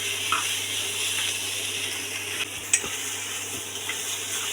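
Ingredients for fish curry sautéing in a pan, a steady frying hiss with faint stirring and a few light utensil clicks against the pan.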